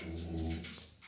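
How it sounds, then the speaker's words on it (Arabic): A griffon puppy gives one brief, close whimpering bark with a low growling tone, alone and without talk. "ايه رايك في الكلاب دي"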